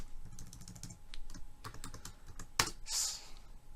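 Rapid keystrokes on a computer keyboard while writing Java code, close and fairly quiet, in irregular bursts with one sharper clack near the end.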